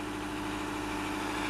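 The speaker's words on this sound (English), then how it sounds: "The first jobs this morning when we got up was to run the engine to warm it up" A boat engine idles to warm up in the morning, a steady, close, low rumble with even throbbing and no change in pitch, heard alone with no voices.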